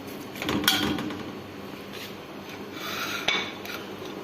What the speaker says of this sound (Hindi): इन सब चीज़ों को अच्छी तरह मिक्स कर लें